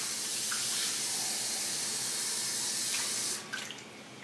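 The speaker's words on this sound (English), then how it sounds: "So I'm going to add more water." Water runs steadily from a tap or jug while making masa dough for pupusas, a continuous close hiss that cuts off near the end, leaving faint drips.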